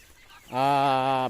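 After a moment of quiet, one native chicken lets out a single loud, drawn-out squawking call close by.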